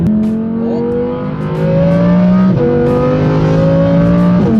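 Audi R8 engine revving up close and loud, its pitch climbing in two long rising pulls with a brief drop between them, steady and unbroken throughout.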